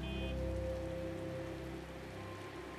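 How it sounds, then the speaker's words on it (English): Rain falls in the city-building game SimCity (2013), a continuous soft hiss of drops on surfaces blended with sustained game music tones, steady and moderately loud throughout. "And it's raining over here"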